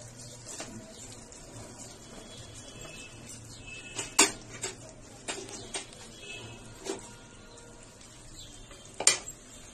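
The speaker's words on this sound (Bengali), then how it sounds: "এবার এটার মধ্যে নাড়াচাড়া করে আমি দিয়ে দিচ্ছি আলুটা" Potatoes are stirred in a frying pan with raisins in hot oil: a spatula scrapes and knocks against the metal in a few sharp clanks over a faint, quiet sizzle.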